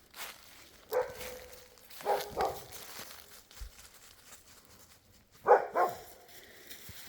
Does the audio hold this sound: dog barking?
yes